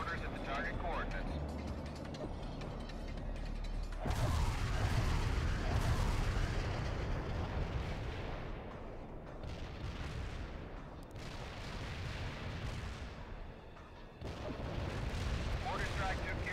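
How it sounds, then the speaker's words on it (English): Mortar fire in World in Conflict: deep booming thuds and rumbling blasts rolling in waves over a dense battlefield din, with radio-style voices talking over it. "Zulu Niner firing mortars at the target coordinates."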